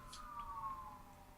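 Faint, distant emergency-vehicle siren from neighbors' vehicles, a brief wavering tone heard alone at low level.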